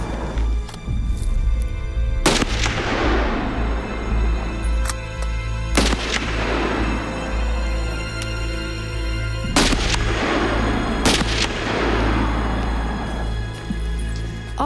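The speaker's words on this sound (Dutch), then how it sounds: "Alle 10 hebben ze geschoten." Rifle shots fired one at a time during shooting practice in the Arctic, four sharp, loud cracks spaced several seconds apart, each trailing a long rolling echo over a steady low hum.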